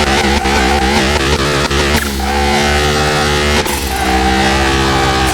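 A Jaguar XJ220 engine accelerates hard through the gears in the Car Mechanic Simulator 2021 video game, a loud continuous rising roar with abrupt shift breaks and no talking.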